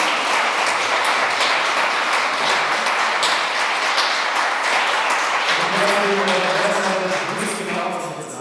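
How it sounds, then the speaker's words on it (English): Loud audience applause at a film festival award ceremony, sustained crowd clapping close by that fills the whole stretch, with voices and some tonal sound emerging beneath it toward the end. "Give them a huge applause."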